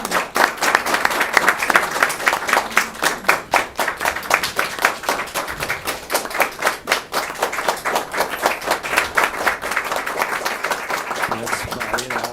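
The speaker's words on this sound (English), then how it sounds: "a round of applause." A board of education audience gives a sustained round of applause at a school district meeting, with dense overlapping hand claps running steadily for about twelve seconds at close, fairly loud level.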